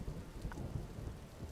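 Thunderstorm in the video game Vintage Story: steady rain hiss with a low rumbling thunder bed, continuous and fairly faint, with no speech over it.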